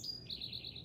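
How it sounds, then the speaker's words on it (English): Birds chirp outside on a Cape Cod morning, a run of quick bright repeated tweets over a steady low background hum, moderately near and fairly faint. "just listening to the birds outside."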